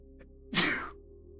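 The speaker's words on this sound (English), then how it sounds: "I gotta sneeze." A single close sneeze from a man indoors, one sharp burst lasting under half a second against quiet background hum.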